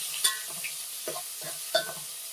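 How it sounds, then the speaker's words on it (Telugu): A spoon stirs bay leaf, onion and green chilli in a pan, with several scraping strokes over a steady low sizzle. "బిర్యానీ ఆకు అండ్ ఆనియన్, పచ్చిమిర్చి వేసుకొని మంచిగా కలుపుకోవాలి ఫ్రెండ్స్"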